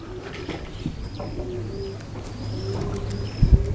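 A racing pigeon coos softly in a series of low, repeated calls at a breeder's loft, with faint chirps and light rustling nearby and no talking.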